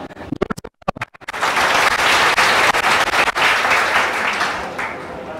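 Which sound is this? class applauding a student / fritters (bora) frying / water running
class applauding a student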